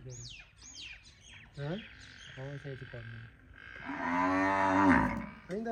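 A Nili buffalo lowing several times in deep, drawn-out calls, with a longer, louder bellow near the end and outdoor background noise.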